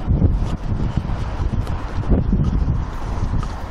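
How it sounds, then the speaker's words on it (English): Strong wind buffets the microphone during a Parrot Anafi 4K drone flight, producing a loud, continuous low rumble that gusts unevenly throughout. "Why so much wind?"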